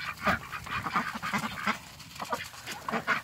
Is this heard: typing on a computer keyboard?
no